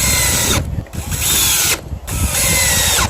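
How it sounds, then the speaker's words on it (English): Power drill driving 1 1/4-inch Phillips truss-head self-piercing screws into wooden boards: loud, continuous whirring bursts with two short pauses between runs, close up and alone. "I'm going to drill these into the boards. I'm using 1 1/4 long truss Phillips self-piercing screws."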